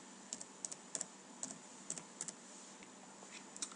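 Someone types code on a computer keyboard, producing light, crisp key clicks in small irregular clusters. The typing is faint and close, with no talk over it.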